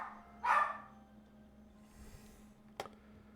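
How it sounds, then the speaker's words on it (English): A pet dog gives a single sharp bark indoors, then a fainter yip a couple of seconds later, over a quiet background hum. "It's either that or you guys have to listen to the doggo barking."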